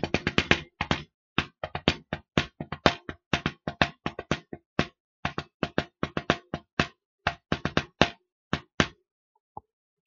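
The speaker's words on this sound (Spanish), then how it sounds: "En ese momento llamaron a la puerta." Knocking on a door, a long series of sharp, close raps in quick uneven clusters and separated by short pauses, with one last faint tap after a gap.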